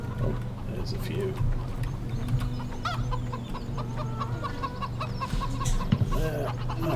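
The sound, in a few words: chickens clucking in Farming Simulator 17 (video game)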